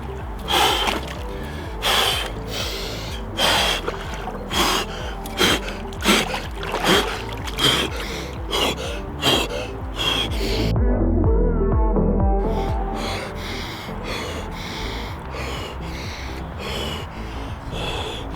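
A person sits immersed in a cold pool and breathes in deep, repeated gasps and sharp exhales. The breaths are close and loud, come in a steady rhythm, and are joined by a short stretch of sloshing water.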